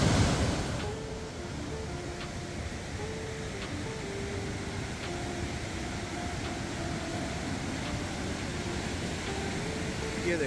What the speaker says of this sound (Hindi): पानी का फ्लो बहुत तेज़ है दोस्तों। ये है तीस्ता नदी